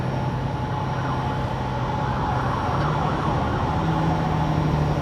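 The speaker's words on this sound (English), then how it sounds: "He had his sirens on." An emergency vehicle siren wails steadily and loudly over the hum of a truck cab on the highway between Salt Lake City and Salina, Utah, the tone holding and shifting slightly as it goes by.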